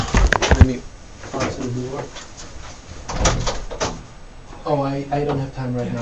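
A door opens and closes with a few sharp knocks and clunks at close range. Someone begins speaking near the end.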